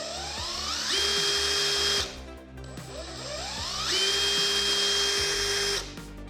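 A Makita DTD173 impact driver motor whines up twice, each run starting slow and then climbing steeply in speed before cutting off, loud and close with short pauses between.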